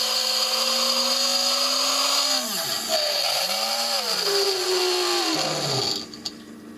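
A GM Holden windscreen washer pump motor spins at high RPM with a loud, close electric whine that wavers and sags in pitch as it strains, then drops away abruptly near the end.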